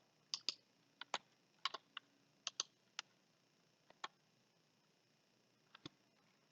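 Computer keyboard keys are pressed to steer a turtle in a Python racing game, producing sparse, crisp clicks in small bursts and single taps, close and quiet, with no voices.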